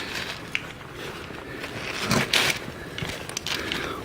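A ratchet works a bolt free beneath the front end of a Toyota Corolla Matrix, giving faint mechanical clicks and metallic rattles, with a louder clatter near the middle and no one talking.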